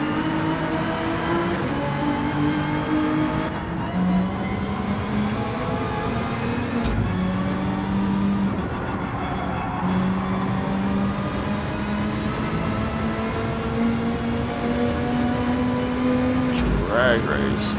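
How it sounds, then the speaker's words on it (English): Nissan Skyline cars drag racing in Gran Turismo 7 at the Nurburgring, engines droning and shifting through gears with rising whines and sharp cuts between shifts, loud and continuous under someone talking excitedly. "Skyline drag race, dude"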